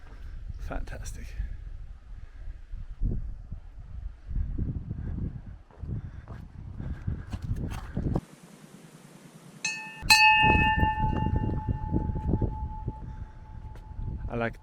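Ringing of a bell along the Camino de Santiago, after a walker's talk and footsteps, a single loud metallic strike with a long sustained hum that decays slowly, with some movement noise under it.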